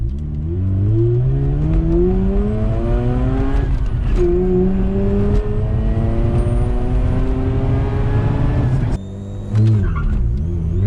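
A turbocharged Mazda RX-8 with a GReddy kit on its original 95,000-mile rotary engine launches and revs hard, its loud pitch climbing steadily through the gears for about nine seconds before a brief lift and a renewed rise.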